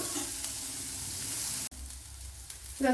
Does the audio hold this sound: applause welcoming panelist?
no